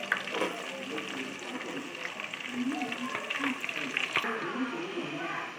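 Onions and green chillies fry in a pan with a steady sizzle that runs throughout, and a person speaks over the cooking.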